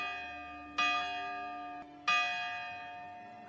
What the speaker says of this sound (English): Or when a morning church bell rings.